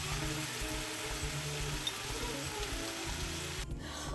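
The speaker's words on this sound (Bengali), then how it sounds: "আমি জিনিসটাকে এখন খুব ভালো করে কষিয়ে নিব একটু ঢেকে ঢেকে অল্প জালে জালে জিনিসটাকে খুব ভালো করে কষিয়ে নিব" Eggplant, potato and dried fish sautéing in a pan produce a steady, even sizzle and crackle, close and continuous, with a faint low hum underneath.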